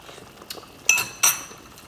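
A metal spoon stirs Thai chicken and potato soup in a pot, giving two bright, close clinks against the rim over an otherwise quiet background.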